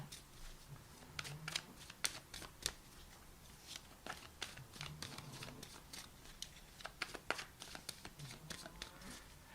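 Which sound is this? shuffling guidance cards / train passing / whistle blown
shuffling guidance cards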